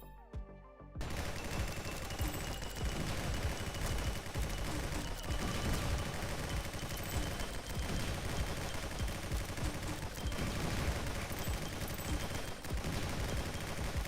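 Automatic turrets in the GunCraft Survivor game fire relentlessly, a dense, loud, continuous barrage of rapid gunshots layered over one another for about thirteen seconds after a brief quieter opening.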